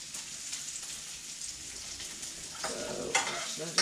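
Tapas fry in oil in a pan, a soft continuous crackling sizzle that swells slightly toward the end, where a few stirring scrapes cut in.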